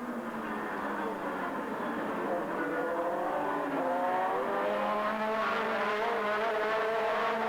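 Formula 3000 race cars splash through standing water at a rain-soaked Silverstone circuit, engines droning and rising in pitch as they pass close by in a continuous wet roar.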